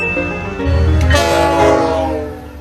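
A train at Islington Avenue in Woodbridge sounds a loud, sustained horn while the rumble of rail cars carries underneath, close by and rising then easing off.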